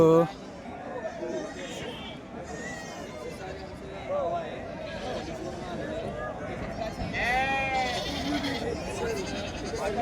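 Goats bleat repeatedly at the Peth Vadgaon goat market, several animals calling over constant crowd chatter and talking nearby.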